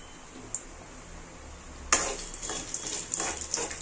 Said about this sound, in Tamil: இப்போ தாளிப்பு பொருளெல்லாம் சேர்த்துட்டு இதை நல்லா வதக்கி கொடுத்துக்கலாம்